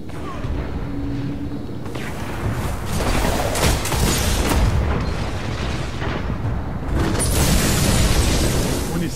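Heavy artillery explosions in the game Bandeira de Ferro, with dense, overlapping booms and rumbling blasts sustained throughout, loud and close, plus a brief burst of speech partway through.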